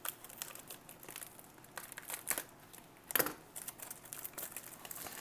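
A Vietnam-era LRRP ration package is crinkled and handled, giving close, faint, irregular crackles and rustles of dry packaging. There is one sharper crackle partway through and no talking.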